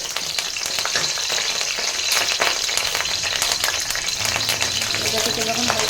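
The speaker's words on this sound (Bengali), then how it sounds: "তারপর আমি দিয়ে দিচ্ছি কারি পাতা দিয়ে এটাকে আমি ভালো করে একটু নেড়ে নেব" Curry leaves, bay leaf and cinnamon crackle loudly in hot oil as they are stirred, a dense, close, continuous sizzle with scraping stir strokes.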